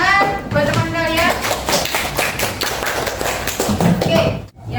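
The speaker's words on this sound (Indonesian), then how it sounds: "Oke, tepuk tangan buat teman kalian" Students in a classroom clap for a classmate, a quick flurry of hand claps up close, mixed with voices and a teacher talking over them before a brief pause.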